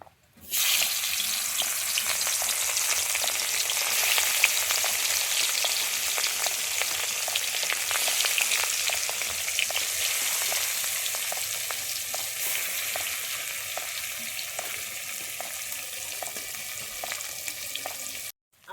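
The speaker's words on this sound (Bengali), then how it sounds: "আমি ওই সর্ষের তেল দিয়ে দিচ্ছি এবারে মাছগুলো ভেজে নেবো" Pieces of rohu fish fry in hot mustard oil in a heated kadai, giving a loud, steady, crackling sizzle that runs unbroken from start to finish with no voices.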